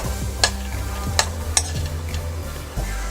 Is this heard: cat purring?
no